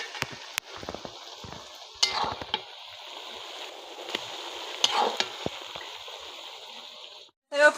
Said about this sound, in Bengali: পেঁয়াজগুলোকে আমি নাড়াচাড়া করে ভেজে নেব